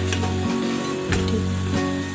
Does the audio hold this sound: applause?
no